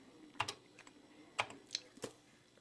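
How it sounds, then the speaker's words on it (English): Keys pressed on a Commodore 64 keyboard, giving a few separate close clicks and clacks at an uneven pace in a quiet room. "you hit return, and it's searching, loading, ready"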